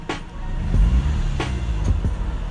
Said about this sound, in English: the hesitation I'm talking about is like right when I press on the throttle